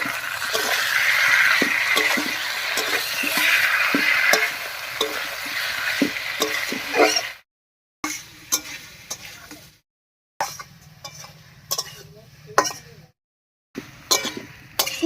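Onion, garlic, ginger and cumin paste is stirred in a hot pan, with a loud continuous sizzle and rhythmic spatula taps for about seven seconds, then short bursts of frying and scraping broken by brief silences.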